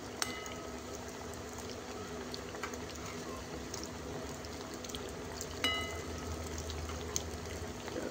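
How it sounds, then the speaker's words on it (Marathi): Coriander fritters (kothimbir vadi) fry in hot oil with a faint, steady bubbling sizzle and occasional small crackles and pops. "अशा पद्धतीने आपण आता छान वड्या खरपूस तळून घेऊयात"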